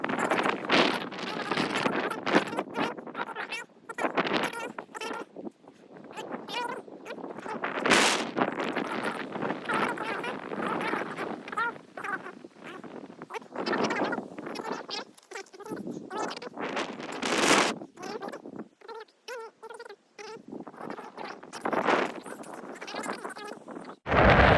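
Gusty wind buffets the microphone on a frozen mountain lake in Canada during ice fishing, loud roaring bursts rising and falling, with someone talking at intervals.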